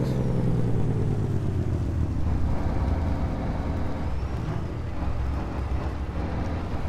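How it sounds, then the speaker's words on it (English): A truck's engine brake roars loud and close during a wheat harvest, a heavy, steady mechanical drone whose pitch slowly falls as the truck slows. "Hit the Jake brakes."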